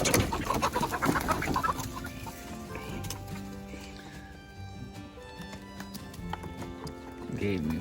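Backyard chickens, roosters among them, cluck and murmur close by in a busy morning flock while a person talks over them.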